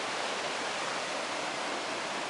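Water from a stream flows steadily close by, an even rushing wash with no other sounds over it.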